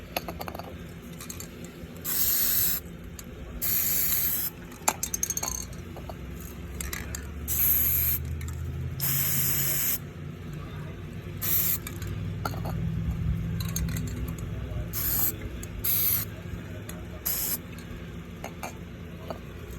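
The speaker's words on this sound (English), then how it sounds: "cheap spray paint." Repeated short bursts of cheap spray paint hissing from an aerosol can for a second or two each with pauses between, close up against a quiet background, painting an RC lexan body shell.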